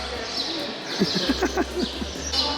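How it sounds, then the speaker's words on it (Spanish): Several short bird calls repeat in a quick rhythmic series, moderately near, over a steady background hum with faint voices, in Madrid. "Yo recién decía, Fer, escucho muchos ruidos a pájaros y no sé dónde están."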